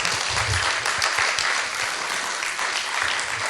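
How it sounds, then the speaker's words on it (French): A studio audience claps in steady, fairly dense applause for a few seconds, with no voices standing out. "On s'applaudit."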